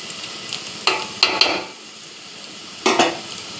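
Chopped tomatoes frying in a pan while noodles are cooked at home, with a few short bursts of stirring and utensil scrapes over a soft, steady sizzle.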